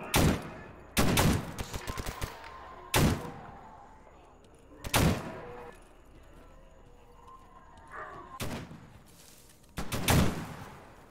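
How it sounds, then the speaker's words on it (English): Gunfire in the video game Stalker GAMMA, arriving as several sharp bursts spaced a second or two apart, loud and booming, with quieter game ambience in the gaps. "Who the hell is firing those at us?"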